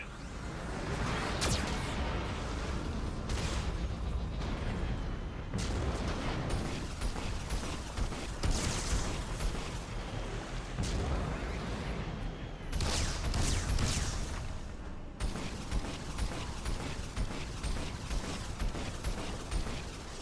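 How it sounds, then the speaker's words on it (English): A Geth cannon fires in the Mass Effect 2 video game, with repeated heavy blasts, whooshes and mechanical clatter in bursts broken by short gaps amid a loud combat soundscape. "Warning, Geth cannon is locking on our location."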